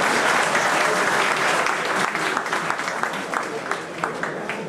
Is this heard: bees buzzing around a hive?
no